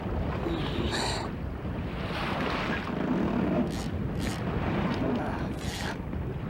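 Wind blasting across the microphone on a fishing boat while a large chinook salmon is netted, making a constant rushing roar with stronger gusts that swell and fade.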